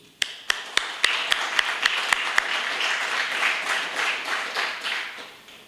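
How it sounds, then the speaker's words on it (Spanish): Several sharp, evenly spaced claps ring out, then a crowd breaks into sustained applause that swells and continues to the end. "yo quiero darle un fuerte aplauso"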